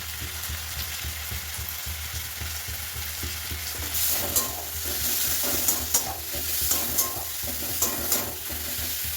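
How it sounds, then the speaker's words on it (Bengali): Tomato with onion, turmeric and salt sautéing in a pan, a steady close sizzle with repeated scraping stirs and a few sharp taps of the spatula against the pan. "এটাকে ভালো করে কষিয়ে নেবো পেঁয়াজের সঙ্গে।"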